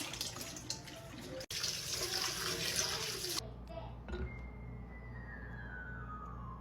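Homemade almond milk is strained, with a rushing, splashing pour of liquid for the first few seconds before it drops to a quieter trickle and a few soft knocks.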